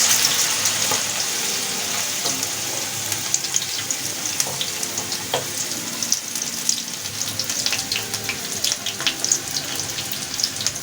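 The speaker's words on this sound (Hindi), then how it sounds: "हल्की आंच में इसे फ्राई करनी है" Fish frying in oil over a low flame, a continuous close sizzle and crackle with scattered pops and occasional light kitchen clatter.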